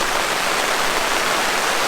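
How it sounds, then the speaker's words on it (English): Heavy rain pouring down at a campsite on New Year's Eve, a loud, dense, continuous hiss with no breaks and no voices. "coming down a little harder than I expected it to"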